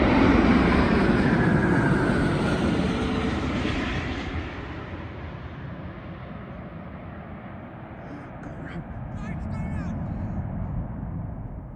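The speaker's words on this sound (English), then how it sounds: "This Cathay Pacific Airbus A350-1000 leaves behind a trail of smoke around." A Cathay Pacific Airbus A350-1000 jet roars loudly on takeoff at close range, a broad sustained rumble that gradually fades and thins as the aircraft climbs away, with faint background voices near the end.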